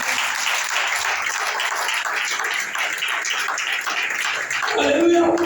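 A church congregation applauds, steady dense clapping filling the room for several seconds, with voices rising near the end.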